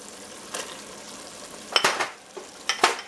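Ground beef browned in a pan for a stuffed green pepper casserole, with garlic and onions just added, gives a soft steady sizzle. A few louder clatters and scrapes of stirring break through near the end.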